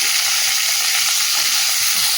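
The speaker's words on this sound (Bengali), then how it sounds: "দিয়ে সবজিটাকে ভেজে নিই।" Vegetables fry in hot oil in a wok-style pan, a loud, continuous close sizzle that holds steady throughout with no talking.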